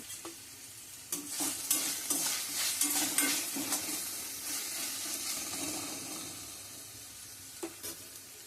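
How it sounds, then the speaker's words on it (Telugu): Ginger garlic paste is stirred and scraped around a hot kadai, a steady sizzle broken by irregular spatula strokes, some sharper clacks near the start and end, close and fairly quiet, with no talking. "అల్లం వెల్లుల్లి పేస్ట్ అంటుకోకుండా ఒకసారి కలిపేస్తే అది అంటుకోకుండా ఉంటుంది లేకపోతే కడాయికి అంటుకుపోతుంది"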